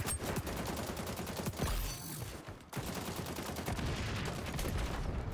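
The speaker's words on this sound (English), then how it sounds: "the AK hits really hard, but god, it's so inaccurate" AK rifle fire in the shooter game XDefiant rattles out in sustained, rapid automatic bursts, loud and close, with a brief pause in the middle before the firing resumes.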